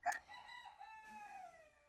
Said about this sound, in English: The rooster's almost as loud inside as it is when I'm outside.